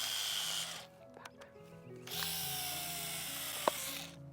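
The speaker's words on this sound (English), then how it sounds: "My drill battery's dead." Cordless drill on a dying battery whirs in short, weak bursts that slow and sag, stopping and restarting with quiet gaps between.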